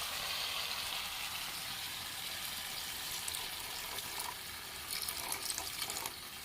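Water poured into hot masala in a pan, cooked village style with chili sauce, gives a steady, close sizzling hiss throughout, with no talk.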